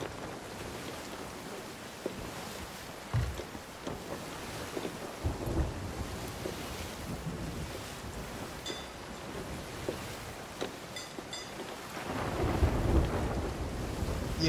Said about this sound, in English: We gotta go straight through, so I'm hoping the storm isn't too mean to us.